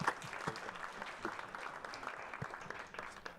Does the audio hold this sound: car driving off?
no